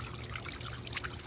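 Garden water pump splashing water, a close, continuous trickling and bubbling patter, fairly quiet and brief.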